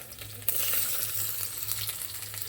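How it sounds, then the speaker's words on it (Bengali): Peanuts, almonds and chopped ginger fry in a pan with a steady, moderate sizzle and a low hum underneath, joined after a moment by a sharp stirring scrape. "এখানে চীনাবাদাম আর কাঠবাদামগুলো ভেজে নেব, তার সাথে আদা কুচি দিয়ে দিলাম।"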